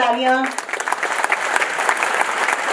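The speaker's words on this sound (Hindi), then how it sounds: "तालियों की गड़गड़ाहट रुकनी नहीं चाहिए" Loud, dense applause from a crowd at a university offer letter distribution ceremony during a mega job fair, honouring job candidates; a voice speaks briefly at the very start before the clapping swells and continues steadily.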